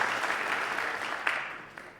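Steady applause fills the hall at a high school winter varsity athletic awards night, a dense even wash of clapping that tapers slightly toward the end.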